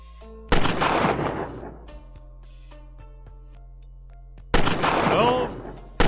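Gunshots in a retro video game, two loud broadband bursts several seconds apart, each a sharp crack that trails off, over a quiet tonal game background.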